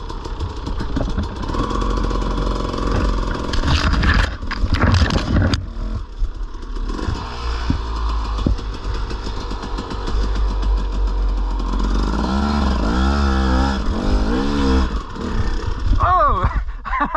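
A dirt bike engine revs and strains on a backwoods hill climb, loud and close throughout. Its pitch rises and falls with throttle bursts, and people shout and talk over it.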